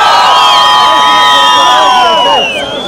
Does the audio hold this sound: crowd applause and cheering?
yes